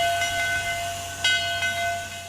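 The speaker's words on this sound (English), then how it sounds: "watching a steam engine in all her glory decorated for a holiday night ride" A steam engine train decorated for a holiday night ride runs with a steady, sustained whistle-like tonal hum over low rumble, swelling in a couple of soft pulses, with no voices.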